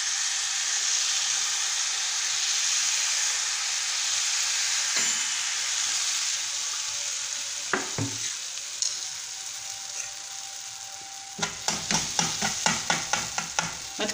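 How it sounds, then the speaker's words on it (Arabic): Zalabia batter frying in hot oil, a steady close sizzle and hiss with intermittent louder crackles and bubbling bursts toward the end, no talking. "بعد ما درت الزيت ما درتش بزاف، خليته سخن، نبداو نطيبو في الزلابيه تاعنا"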